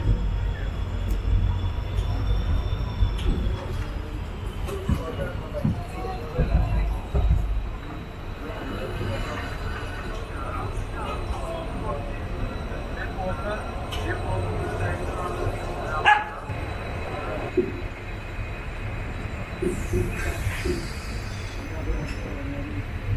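A passenger train hauled by a WAP5 electric locomotive rumbles steadily along the rails near Shoranur, a continuous low roar with faint rattles heard from inside the coach.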